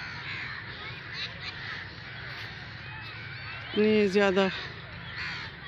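Crows cawing from a tree where food has been put out, a short burst of several loud harsh caws near the end over steady outdoor background, with someone talking briefly before it.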